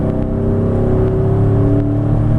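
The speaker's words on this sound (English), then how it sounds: "see how quickly we can get from 0 to 60 miles per hour" A 2011 Chevrolet Tahoe LT 4x4 V8 accelerates hard from a standstill toward 60 mph. The engine drones loudly and steadily from inside the cabin, with its pitch climbing gradually through the run.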